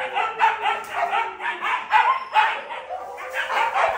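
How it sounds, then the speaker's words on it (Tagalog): Several dogs in a lively pack bark and yip repeatedly in a rapid, continuous burst, loud and close, with one excitable dog jumping about among the others. "tumatahol-tahol pa rin."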